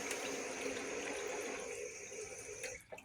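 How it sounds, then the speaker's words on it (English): Cold tap water runs steadily onto freshly churned butter being rinsed of buttermilk, a continuous close splashing stream that thins and stops near the end. "So we'll just wash this off with cold water."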